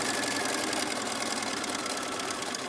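Steady, even whir of a sewing machine stitching fabric, a fairly quiet, continuous mechanical hum with a fine rapid pulse and no talking.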